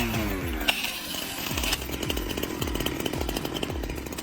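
Chainsaw cutting into a tree, the engine revving in repeated rising surges with a steady buzzing roar throughout, loud and close with no talking.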